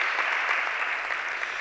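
A room of guests at an interior design networking event claps steadily, a close, continuous patter of many hands that stays level throughout with no talk.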